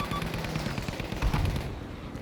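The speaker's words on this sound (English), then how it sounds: "There's a few shots coming from over here." Gunfire from the video game Battlefield V, heard in a jungle level on the Solomon Islands map: a steady stream of close, rapid shots with a dense, rattling texture throughout, and no talking.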